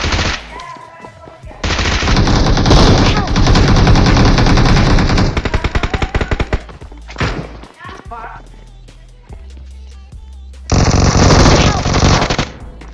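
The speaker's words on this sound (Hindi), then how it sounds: "चारों जगह से फायरिंग आ रही थी" Gunfire in the mobile battle game BGMI: long, loud bursts of rapid automatic fire, then scattered single shots and thuds, then another sustained burst, all close and dominating.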